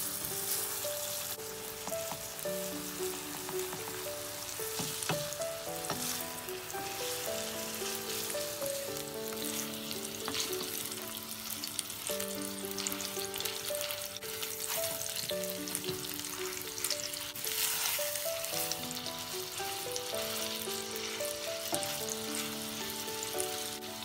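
Japanese hamburg steak patties fry in oil in a pan, giving a steady, close crackling sizzle that runs throughout, with light music playing over it.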